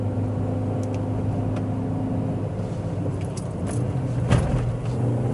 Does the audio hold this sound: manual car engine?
yes